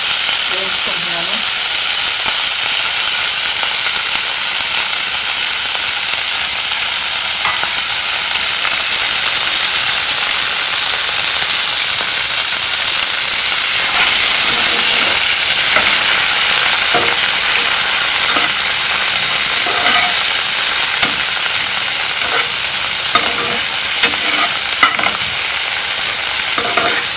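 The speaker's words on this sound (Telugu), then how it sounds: "అదే నూనెలో పుదీనా కొత్తిమీర వేయించుకుంటున్నాను." Mint and coriander leaves fry in oil with a loud, steady sizzle and hiss that runs throughout, broken by occasional soft stirring clicks, with no talking.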